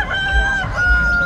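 A rooster crows once, loud and close, with a sustained harmonic call at a busy animal market where poultry and rabbits are sold.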